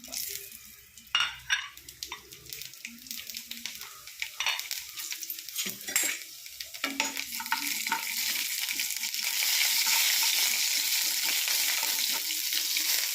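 Rice grains hit hot oil with garlic, coconut and turmeric, crackling and sizzling close by, with a few stirring clatters early on before the frying settles into a loud, steady hiss.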